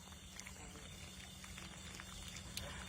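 Water splashes and trickles near the face during a face wash with orange soap, a steady wet patter with a low hum underneath and no clear talk.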